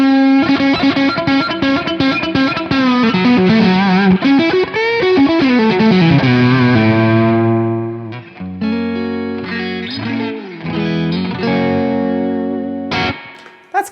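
Electric guitar through a Tech 21 Trademark 60 amp, heard loud and close: a distorted fast strummed and picked passage, then the volume rolled down to cleaner, glassy sustained chords that ring out and decay, alone without talking.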